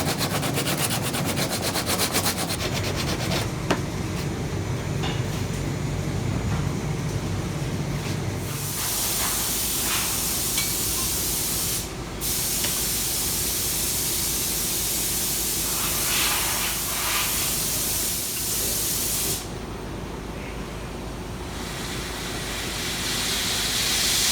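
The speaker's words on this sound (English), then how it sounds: "I've just kind of sanding away this extra thickness here at the belt seat." A KMG belt grinder sands metal at a surface grinder attachment's belt seat with a continuous harsh, abrasive hiss that shifts in pitch and intensity as pressure changes, with brief breaks in between.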